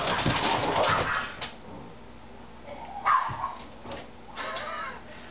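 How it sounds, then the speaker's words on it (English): Two dogs play together outdoors at a moderate distance, giving a few yips and short barks between quieter stretches, with faint ambient background and no talking. "I've got two dogs that apparently are playing with one another"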